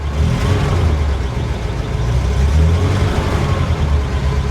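A 1953 Pontiac Chieftain straight-eight runs steadily nearby, a deep low rumbling drone with slight swells in revs and no voices over it.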